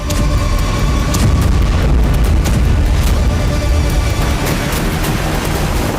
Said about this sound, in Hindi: इन सब के बीच इजराइल आसमान से भीषण बमबारी कर रहा है।